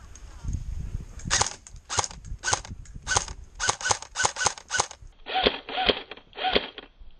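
Gunfire in the video game Gray Zone Warfare: about ten sharp shots in quick uneven bursts, the last three slightly duller and lower, loud and close with no talk over them.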